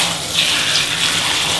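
Tap water runs steadily into a tub to bathe a pet monkey, a close, continuous rushing gush with no talk over it.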